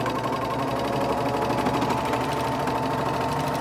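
A sewing machine stitches a quilt block seam in a steady, continuous mechanical whir and hum, close and fairly loud, running without pause and with no talking.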